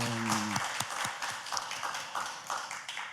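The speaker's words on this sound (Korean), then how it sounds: "우리 살아계신 하나님께 감사와 찬양의 박수 올려드리겠습니다" A church congregation gives a burst of applause after a spoken line, soft irregular clapping in a large room that thins out into scattered claps.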